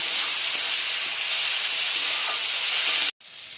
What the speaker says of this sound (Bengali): এটাকে আমরা ভালো করে কষে নেব।